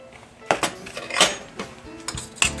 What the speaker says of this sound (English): Just mix that all together.